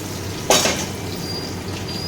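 Sliced onion drops into hot oil with tempering spices in a pan, a sudden burst of sizzle followed by a softer steady frying hiss and faint clinks of utensils.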